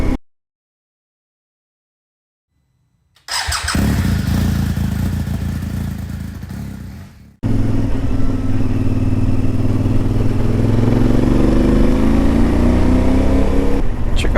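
CFMoto Ibex 450 motorcycle with a sputtering, stalling fault, ridden at slow speed: loud close engine drone and wind after a silent start, a brief cut-out, then steady running with rising revs.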